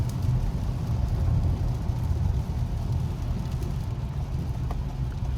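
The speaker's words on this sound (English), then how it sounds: "That's why you're gonna be hearing some engine noise." A 2020 Toyota Camry SE AWD engine drones low and steady from inside the car as it accelerates on a rainy drive, a continuous rumble with no voices over it.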